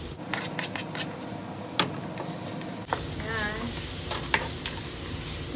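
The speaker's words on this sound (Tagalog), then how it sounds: "Tapos, lagyan na natin yung ating squid ball." Squid balls dropped into a hot pan for chicken sotanghon, frying with a steady sizzle while a utensil stirs and clacks against the pan in a few sharp knocks close by.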